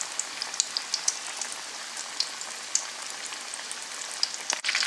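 Flamin Hot Cheetos–battered chicken pieces frying in hot oil, a steady fine crackle with scattered sharp pops throughout, moderately quiet and with no voices.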